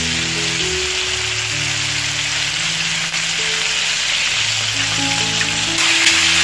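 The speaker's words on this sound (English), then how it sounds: "our chicken is still frying" Constant loud crackling and sizzling of chicken drumsticks deep frying in oil, a dense hiss that holds steady with faint hum underneath.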